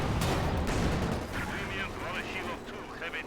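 MP40 submachine guns fire in the World War II strategy game Company of Heroes 2 as dense, rattling bursts with battle booms beneath, while a commentator talks over the action.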